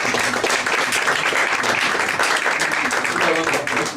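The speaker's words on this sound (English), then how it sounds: "Clap!" Continuous audience applause at a book launch event as a speaker is introduced, a full, even roar of clapping with voices faintly audible underneath.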